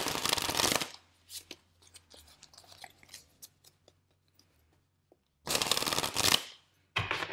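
Tarot cards being shuffled close up in two dense riffling bursts, one at the start and one about two-thirds through. Soft handling noises and scattered light taps fill the quiet gap between them.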